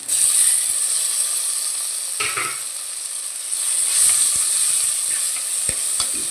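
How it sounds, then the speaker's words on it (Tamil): Tomatoes are tipped into onions frying in oil for a village-style crab curry, then stirred, giving a steady bright sizzle with scraping and clinking of a spoon against the pan. "நல்லா வதங்கி வந்துருச்சு இப்போ தக்காளியை போட்டுக்கலாம்"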